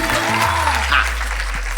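Audience applause on a Malayalam travel game show, a short burst of clapping that starts right away and stays loud and even for under two seconds, with a low hum beneath it.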